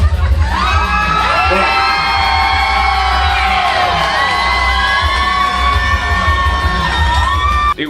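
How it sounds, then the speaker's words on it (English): A costume-ball crowd of fans dressed for a Tim Burton event erupts in loud cheering, whoops and high-pitched shrieks that swell and hold steadily, close and dense, with a brief voice at the start. "And the crowd just lost it."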